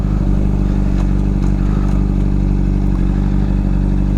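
A Honda CBR 600 motorcycle engine on a test ride gives a loud, steady, close droning hum with a constant low throb and no rise or fall, and nobody speaks.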